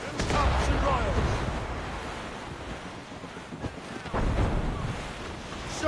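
In the Assassin's Creed Rogue video game, a sailing ship rides through a squall. Roaring wind and surging ocean waves form a loud, continuous wash that swells and eases in surges.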